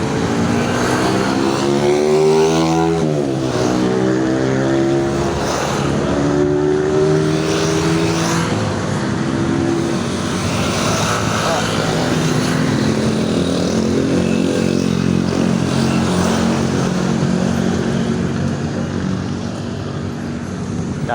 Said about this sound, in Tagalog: Walang tigil ang sasakyan.